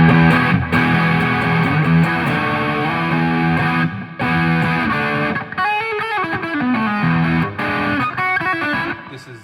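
Heavily distorted electric guitar played loud and close through an amp with distortion and no modulation, sustained chords and bending notes with a few brief gaps, no voices.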